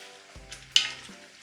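Oxtail in tomato sauce stirred in a pot, a brief quiet scrape and thick bubbling stir lasting under a second, close up with a low sizzle underneath.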